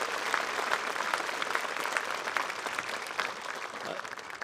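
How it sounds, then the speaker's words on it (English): Graduation audience at the Hempfield Area 2023 ceremony applauds the student speakers, a steady dense wash of many hands clapping at moderate volume throughout. "if we could get a round of applause"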